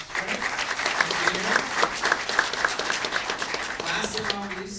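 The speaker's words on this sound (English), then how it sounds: "Let's give some applause." An audience at an Army training technology conference claps warmly for several seconds, a dense, even wash of hands that tapers off near the end, with a voice faintly present.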